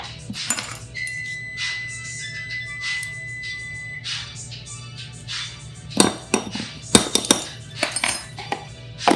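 Metal utensils clink and scrape against a bowl while ingredients for a teriyaki salmon bowl sauce are mixed, including garlic. Scattered taps give way to sharper, louder clatters near the end.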